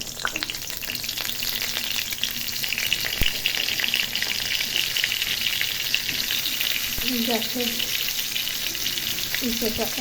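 Steady, continuous sizzle of pointed gourd frying in hot oil over lowered gas heat, close up, with occasional faint clinks and stirring sounds.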